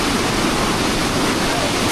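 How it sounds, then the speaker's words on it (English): Waterfall pouring into a blue lake, a constant dense roar of falling water filling the whole clip at close range, no voices. "let's check out this waterfall"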